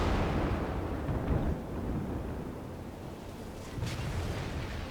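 Heavy shell impact on a Tier-1 Russian cruiser, the Orlan, in the naval game World of Warships, a deep booming rumble that swells, eases, then surges again with a distant roar.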